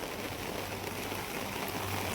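Steady rain falling on surfaces outdoors, a constant even hiss with no distinct drops or voices standing out.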